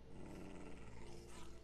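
Wolf pup growling in the Minecraft video game, a steady low rumbling snarl held close and loud for the whole short stretch, with no talk over it.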